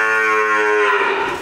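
A Gir bull on a farm gives a single long, loud, close moo with a rich harmonic tone, sustained for over a second before tapering off at the end.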